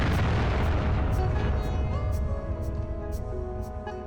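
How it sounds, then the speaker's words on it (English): Explosion in the PS1 racing game Racing Lagoon: a loud, dense broadband blast that fills the whole clip and slowly decays into a rumbling tail, with sharp rhythmic crackles ticking over it. "There's the sound of a siren, an explosion, and Sho is left wondering"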